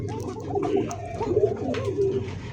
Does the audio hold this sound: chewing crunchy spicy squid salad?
no